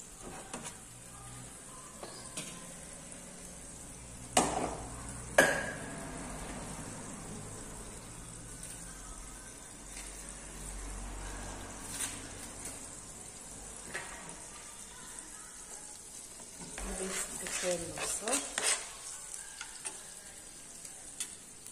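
A little oil sizzling steadily in a pan while a spoon stirs and scrapes, with a few louder knocks of the utensil against the pan in between.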